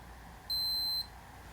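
A Keto Mojo blood ketone meter lets out a single clean electronic beep about half a second long, close and clear, over a quiet room with no talking.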